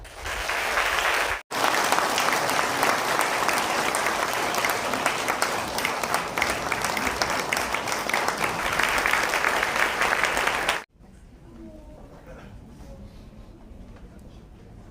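A church congregation applauds during an ordination and retirement service, loud sustained clapping for about nine seconds that cuts off abruptly, followed by quieter room sound with faint talk.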